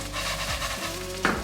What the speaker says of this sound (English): you can drop inside your rice and just stir well. You will need to toast the rice inside the pan.